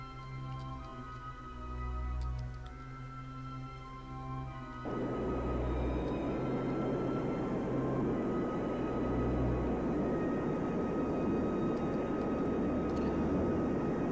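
A spacecraft engine roars in a video game during a landing. A low tonal hum gives way to a loud, steady, broadband rush that holds to the end without any talk.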